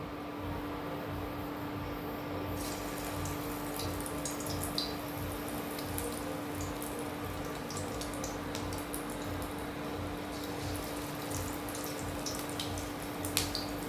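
Lentil fritters sizzle in hot oil in a wok, a steady bubbling hiss with occasional sharp crackles and pops, close and continuous with no talk.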